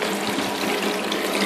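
A double waterfall system in a hydroponic grow tub sends water pouring steadily, a dense, continuous close-up splash and hiss with no pauses and no voices.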